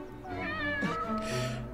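A cat meows in an anime episode, a single drawn-out, wavering meow heard close and clear on its own with no talk over it.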